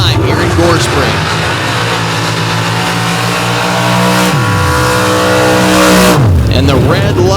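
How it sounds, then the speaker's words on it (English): Two 632 cubic inch big block Chevy drag cars race side by side on a dirt drag strip, engines roaring loud and close with rising pitch through the run, then a sharp drop and a second surge near the end, with commentary over it. "the pair of 632 cubic inch big block Chevys going to war one last time here in Gore Springs"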